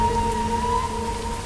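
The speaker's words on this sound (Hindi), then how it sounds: "रेगिस्तान में बारिश, तो भी इस मौसम में," Steady rain falling in a desert, a soft continuous hiss with a faint tonal hum running underneath, no voices.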